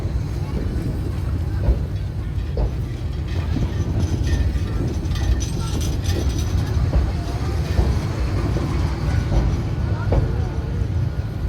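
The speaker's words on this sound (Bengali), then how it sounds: "এই যে আমাদের পিছন দিয়ে ট্রেনটি যাচ্ছে, দেখেন।" A train crosses the Kalurghat bridge in Chattogram, a continuous heavy low rumble with rattling throughout, close and steady, with faint voices underneath.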